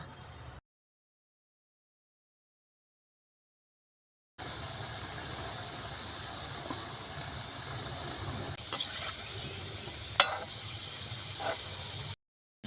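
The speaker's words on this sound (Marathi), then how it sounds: "तेल तापलं आपलं आता आपण आता तळून घेऊया" Shankarpali dough pieces fry in hot oil, a steady low sizzle and bubbling that runs continuously at moderate volume after a silent gap, with a few faint clinks.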